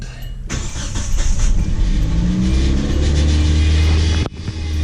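A car engine starts and runs right after a fuel pump repair, a loud, close, steady idle with a slight wavering pitch before it cuts off abruptly near the end.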